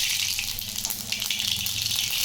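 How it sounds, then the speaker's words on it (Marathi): Cumin and mustard seeds dropped into hot oil, a steady close sizzling hiss that holds evenly throughout. "तेल गरम झालं आहे, त्यामध्ये आपण टाकू जिरे मोहरी"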